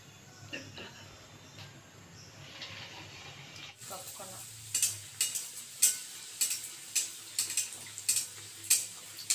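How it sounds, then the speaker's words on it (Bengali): Luchi, puffed flatbread, deep-frying in hot oil at night, giving a steady sizzle that turns into a series of crackling, bubbling bursts repeating about every half second, close and fairly loud. "এখন আমি লুচিগুলো ভেজে নেব।"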